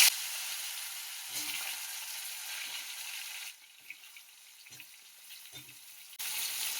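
Pumpkin sizzling as it fries in a hot wok, a steady broadband hiss that dips quieter midway and swells again at the end, with faint occasional clinks of stirring.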